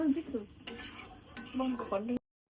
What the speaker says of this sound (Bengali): মশলার সাথে ভালোভাবে এটাকে মিক্স করবো